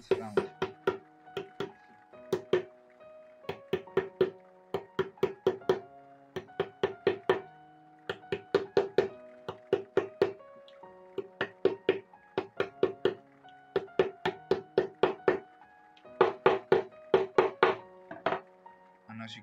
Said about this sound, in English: You use this edge of the hammer to knock one side